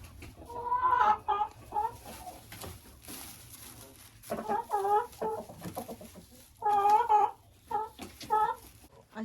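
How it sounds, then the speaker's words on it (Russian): Six-month-old hens cluck in several bursts of rising, nasal calls, near and fairly loud, with quiet gaps between the bursts. "И этим курочкам 6 месяцев."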